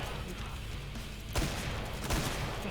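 Shotgun blasts in the co-op zombie shooter Killing Floor 2, two heavy booming shots about a second apart over a dense, constant wash of game noise and effects.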